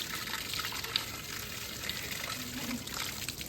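Floodwater pours into a village garden bed as a steady, moderately faint trickling and gushing flow that runs continuously throughout.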